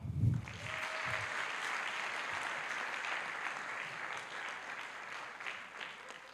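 A developer-summit audience claps again in a continuous, even round of applause that holds steady for several seconds, with a brief low thump at the start.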